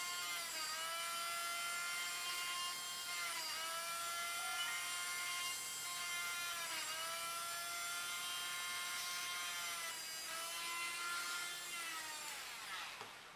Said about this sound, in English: And now I'll pre-drill it. These are just pilot holes, very small holes.